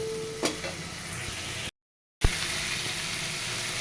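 A ground spice paste fries and sizzles steadily in a pan, moderately loud, with a couple of sharp knocks of a spoon and a brief cut to silence midway.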